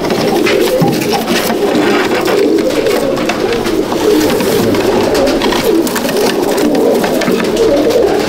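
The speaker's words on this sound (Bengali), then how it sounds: "পায়রা ভেতরে ছাড়লেই ওরা বেরিয়ে যাওয়ার চেষ্টা করবে" Madrasi pigeons coo continuously in a dense, overlapping murmur close by, a soft throaty rolling that carries on for the whole stretch with no one talking.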